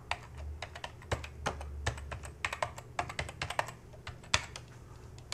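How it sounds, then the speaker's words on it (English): Someone types a username and password on a computer keyboard: quick, uneven runs of crisp key clicks at close range, with no voices, over a low background hum. "type in admin and your password and hit enter"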